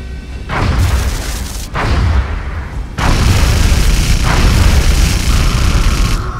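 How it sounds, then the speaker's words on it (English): Interceptor aircraft firing on and shooting down a small UFO scout craft in XCOM: Enemy Unknown, a series of loud, close booms and explosive bursts rolling into a sustained rumbling roar. "Interceptor shot down target UFO"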